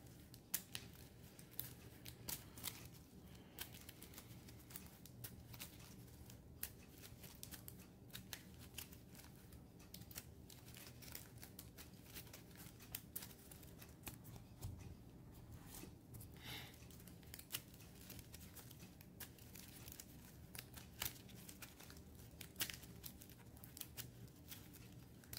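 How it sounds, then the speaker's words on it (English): Decks of cards for the board game Skies Above Britain are shuffled quietly and continuously, a dense crisp riffling and flicking that runs steadily without pause and without talk. "let's get these decks shuffled."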